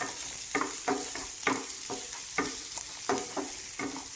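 Ginger, garlic and onion sautéing in a hot pan, a steady soft sizzle broken by repeated scraping stirs at an even rhythm, close and fairly quiet with no talking.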